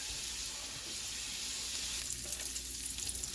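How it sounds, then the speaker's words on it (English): A cast iron skillet on a stove gives a steady, close hiss of oil and fat, continuous and fairly loud, with no voices. "Now that we got the pan getting hot"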